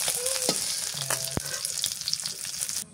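Kalibaus fish fries in oil on a clay stove, a steady broadband sizzle filling the background with a few faint clinks and scrapes, up close and continuous until it cuts off abruptly near the end.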